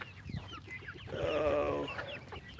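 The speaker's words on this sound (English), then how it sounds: "Here's that other rooster I was talking about the other day." Rooster on a farm clucks in a short series of close, fairly soft calls, ending in a longer drawn-out cry, with no talking over it.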